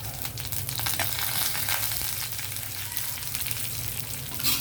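Cumin, mustard seeds and dried red chillies crackle and sizzle steadily in hot oil for a carrot coconut fry, a close, continuous frying hiss with no voices.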